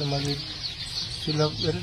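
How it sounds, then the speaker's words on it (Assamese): Local domestic chickens clucking close by in short repeated calls, a brief burst at the start and another near the end, over a steady hissing background. "এইটো আপোনাৰ কি মুৰ্গী? এইটো লোকেল, একদম ঘৰুৱা যিটো লোকেল এইটো।"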